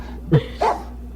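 A dog on a radio talk show gives two quick barks, a sharp low yelp then a higher bark, close and clear over a faint steady broadcast hum.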